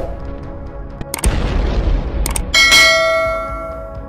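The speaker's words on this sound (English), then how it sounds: "Soon after, a massive explosion erupts after a mortar strike." A massive mortar strike explosion in a war zone during fighting in Ukraine, a loud close boom with a deep rumbling tail following sharp metallic impacts, fading out over a few seconds.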